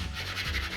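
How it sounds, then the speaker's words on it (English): Sanding a smooth, hard-finished locker door by hand, a short continuous rasping rub, close and moderately loud. "It's time to go sand it smooth."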